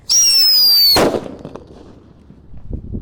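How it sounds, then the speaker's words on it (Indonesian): An unwrapped Blackbuster firecracker, lit outdoors, gives a shrill rising whistle for about a second, then bursts with one sharp loud bang that crackles away into quiet. "Ini mercon Blackbuster yang belum dibuntel dengan kertas guys."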